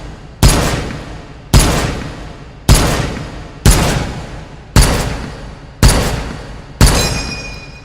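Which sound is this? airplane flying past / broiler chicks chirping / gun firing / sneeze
gun firing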